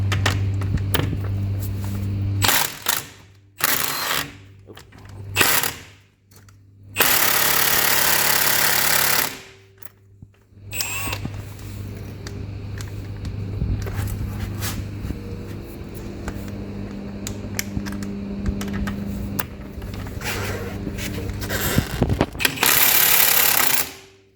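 An impact wrench spins a wire-wheel knock-off off a roadster. It sounds in loud, ratcheting hammer bursts: short blasts at first, then one long burst. Lower mechanical rattling and a steady hum follow.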